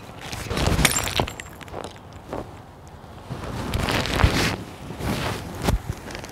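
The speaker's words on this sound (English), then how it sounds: "The fucking bottle fell, bro." Glass bottle falling and shattering, with several sharp crashing bursts and clinking fragments spread over a few seconds against a quiet background.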